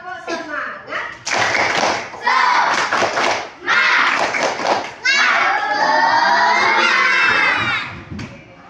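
A classroom of schoolchildren perform the tepuk semangat clapping chant, loud rhythmic bursts of claps alternating with shouted chanting in unison, ending in a long cheering yell that fades out.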